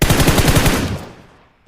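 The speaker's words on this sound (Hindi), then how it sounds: "इतने में मेरे ऊपर फायर आता है" A short burst of rapid automatic gunfire from the PUBG Mobile video game, about a dozen loud, close shots fired in quick succession, then a fading echo and no talking.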